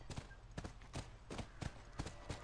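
Horse hooves clip-clop at a steady walking rhythm in the video game The Last of Us, a series of sharp, close knocks over a low rumbling background.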